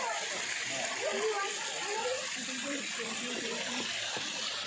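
Water flows steadily into a rock pool at the Satkunda waterfalls beside a forest Mahadev temple, a constant broadband rush with voices murmuring faintly underneath.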